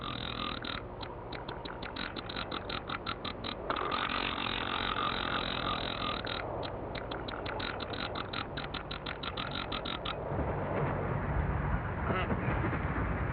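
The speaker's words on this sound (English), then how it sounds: "the males give a harsh rattling sound" Male frigate birds on the Galápagos Islands give harsh rattling display calls, a long run of rapid, rasping pulses that continues almost unbroken, loud and close, with other birds calling faintly behind.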